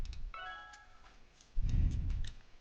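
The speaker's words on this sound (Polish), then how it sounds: "I znowu kot." A cat gives a short, faint meow early on, followed by a louder rumbling low noise.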